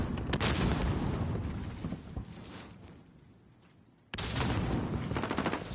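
Rapid gunfire from a Call of Duty esports match, dense bursts of shots near and loud, fading into a quieter stretch before a sharp return of heavy, continuous firing.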